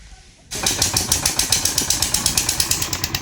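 A ferry boat's engine at Muktarpur ferry ghat fires up abruptly and settles into a loud, steady rhythmic chugging with evenly spaced pulses close by.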